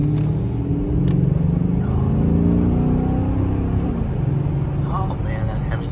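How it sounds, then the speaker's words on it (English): A deep Hemi V8 engine rumbles and revs up and down nearby, its throaty drone swelling and easing over a few seconds. "oh man, that Hemi sounds so good."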